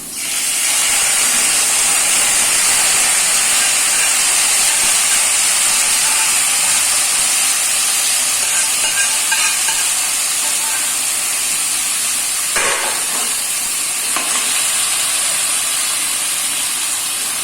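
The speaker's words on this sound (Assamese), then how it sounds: "আমি এতিয়া মাংসখিনি অলপ ড্ৰাই হোৱালৈকে ভাজিম।" Chicken meat frying in a pan with ginger and green chili, giving a steady loud sizzling hiss that runs through the whole stretch, with a few brief clatters near the end.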